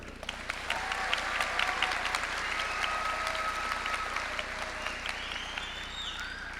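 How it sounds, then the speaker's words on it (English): A graduation crowd applauds the school choir at a high school ceremony, steady dense clapping filling the hall throughout with a few sharper claps standing out. "one more round of applause for our choir."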